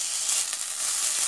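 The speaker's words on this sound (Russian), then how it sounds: "Масло налила в сковородку и помещаю" Nettle ravioli filling sizzles in hot oil in a frying pan, a steady, close, hissing crackle that carries on without a break, with no talking.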